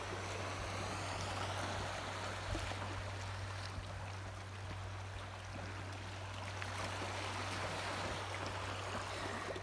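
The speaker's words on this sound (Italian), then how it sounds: "stavamo contemplando questo mare, questo suono, ve lo faccio sentire" Sea water washes steadily against the shore in Sardinia, a continuous close rushing wash with no clear breaks, heard alone over a low steady hum.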